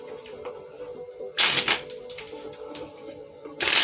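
Tarot cards are shuffled in short riffling bursts, two loud crisp flurries separated by quieter handling, close to the listener.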